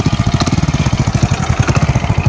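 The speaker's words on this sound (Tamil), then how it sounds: "இப்போ வந்து இன்ஜின் வந்து ரன்னிங்கில் இருக்குது." A modified, restored Hero Splendor motorcycle engine runs at a close, loud idle, its single-cylinder beat thumping in a quick even pulse with no talk over it.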